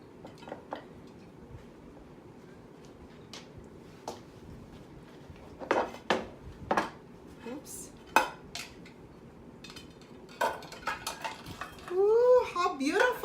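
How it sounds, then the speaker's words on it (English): A baked passion fruit cake is worked out of its baking dish, with scattered clinks and scrapes of utensils against the pan, some sharp knocks, and a voice briefly heard near the end. "I am ready to get it out of the baking dish"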